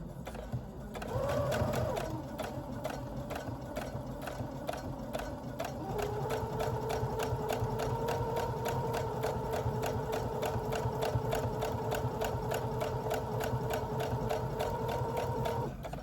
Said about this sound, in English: I will sew these 2 rows together